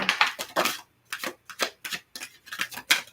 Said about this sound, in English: This is our last shuffle.